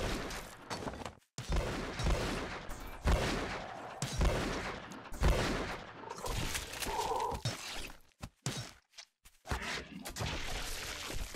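Rapid bursts of gunfire in the shooter video game GRAV Reborn, loud and repeated in clusters with brief pauses, mixed with other game sounds and someone talking.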